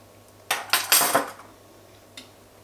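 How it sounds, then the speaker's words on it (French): Metal teaspoons clink and scrape against a bowl while ranch spice mix is spooned in, a few quick close taps followed by one last faint clink after a pause. "je vais mettre 2 cuillères à café d'épices ranch"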